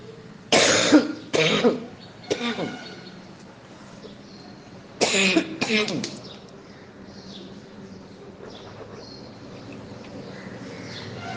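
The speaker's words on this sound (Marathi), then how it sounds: "मला खोकला येतो मधून मधून" Harsh, close coughing breaks out during a kirtan performance in two pairs of loud bursts a few seconds apart, followed by quieter murmuring room sound.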